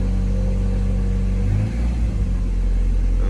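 A 1995 Mazda Miata engine idles right after a cold start with fresh spark plugs and wires, a steady low rumble that dips briefly and settles into an even, close-up idle with no talking.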